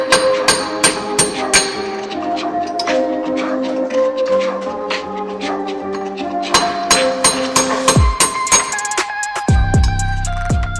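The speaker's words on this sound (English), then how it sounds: "Now we have plenty of room to hammer out the old wheel studs." Sharp metallic hammer blows ring out repeatedly in uneven bursts as old wheel studs are hammered out of a 2015+ Subaru WRX/STI hub, with clanging resonant tones between strikes and a few heavier hits near the end.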